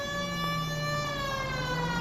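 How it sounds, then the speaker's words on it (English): Emergency vehicle siren wailing steadily and loudly close by, its rising and falling tone continuous throughout with no talk over it. "Did you not hear the siren?"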